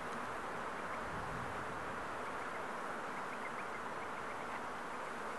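Honey bees buzzing in an opened hive during beekeeping in Africa, a dense continuous hum of many insects at close range, steady throughout with no talk.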